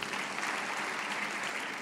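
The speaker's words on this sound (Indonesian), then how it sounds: "Tepuk tangan buat Tuhan" A church congregation claps together during a worship service, a steady, dense wash of applause that holds evenly and stays fairly soft throughout.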